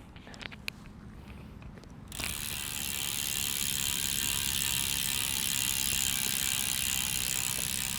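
A Backer OverPass road bike with Shimano 105 22-speed gearing, 30 mm aluminium wheels and bearing hubs gives a few sharp freewheel ticks, then a steady, close whirring hiss as the wheel spins freely.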